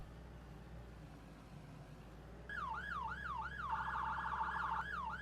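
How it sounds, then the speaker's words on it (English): Emergency vehicle siren in the farming video game Farming Simulator 19 starts midway through, a loud wailing up-and-down tone with a short fast yelp section, over a low steady engine rumble. "The sirens are new"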